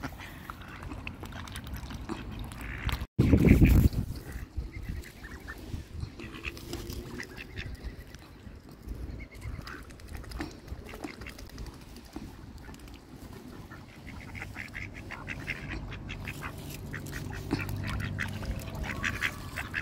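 Ducks crowding at a riverbank as people feed them, with a loud burst of splashing and quacking early on, then steady low chatter of the flock and water noise throughout.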